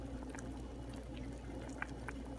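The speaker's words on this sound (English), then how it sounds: "So now I am going to pour this into a bowl" Korean ramen noodles and broth poured into a bowl, a faint, steady liquid trickle and splash over a low background hum.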